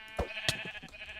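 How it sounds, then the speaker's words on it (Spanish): A Minecraft sheep bleats in a short, wavering call, close and clear over faint background noise, with no talking. "Oh, tío, que me ataca una oveja."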